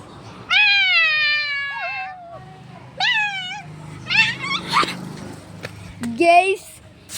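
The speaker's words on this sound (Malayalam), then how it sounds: "മിക്കു പൂച്ച ഇത് കണ്ടോ ഗേസ്." A cat meows several times: long, drawn-out cries, then shorter calls and a final rising yowl, close and loud, with quiet background noise.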